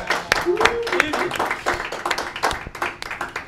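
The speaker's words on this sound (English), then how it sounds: "A round of applause for Miss Vivian," Audience applause for a co-hostess being honored at a community event, a burst of clapping with a voice cheering over it before it thins out into scattered claps.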